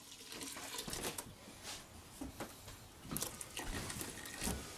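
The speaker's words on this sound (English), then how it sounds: "we're gonna mix a half a gallon of water in there" Water being poured in for dark beer brewing, half a gallon added to rinse out the remaining juice and flavor; a steady, close splashing pour with fluctuating patter, heard alone.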